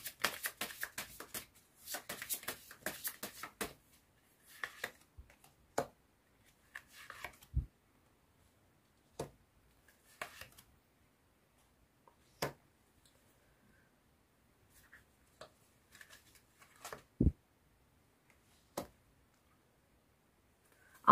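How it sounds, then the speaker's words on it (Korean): Tarot cards are shuffled in quick papery riffles at the start, followed by sparse separate snaps and soft flicks as cards are drawn and laid down one by one, close and quiet. "조언점 카드 뽑아보도록 할게요"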